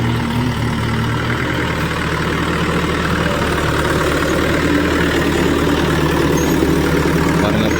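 A 1995 Mahindra 575 DI tractor engine running steadily nearby, a loud continuous diesel chug with a low rumbling throb and no pauses.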